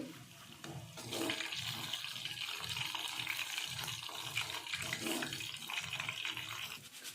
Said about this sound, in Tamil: கடலையெல்லாம் பொறிஞ்சு போச்சு நல்லா சலசலன்னு சத்தமே நல்லா சலசலப்பாக வருது